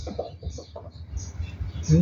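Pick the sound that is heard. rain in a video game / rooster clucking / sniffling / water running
rooster clucking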